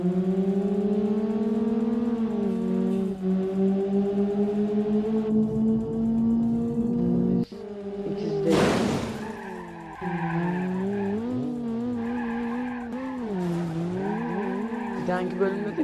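Audi A6 in BeamNG.drive hitting a pothole at speed and crashing: steady engine drone with rising pitch, then a sudden loud impact burst midway, followed by wavering engine and tire noise, with game music or voice layered throughout.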